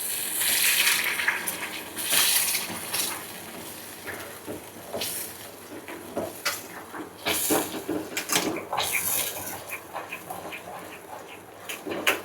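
Water from rinsing a mixer jar is poured into a pan of spicy kara chutney, giving a wet splash and sizzle followed by scattered clinks and scrapes as the mixture is stirred.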